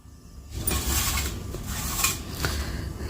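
A spoonful of poppy seeds roasting in a kadhai, with light scraping and clinking from stirring in the pan, steady and close, without speech.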